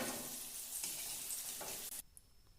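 Sweet potato golibaje fritters frying in a pan of hot oil, a dense steady sizzle with faint stirring scrapes that cuts off abruptly near the end, leaving quiet.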